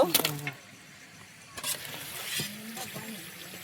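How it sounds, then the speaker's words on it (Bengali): Singaras (samosas) frying in hot oil, a steady soft sizzle and bubbling throughout, with a voice speaking intermittently over it and a few utensil clinks. "ভেজে নেব।"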